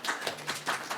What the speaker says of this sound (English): just want to give her a round of applause as well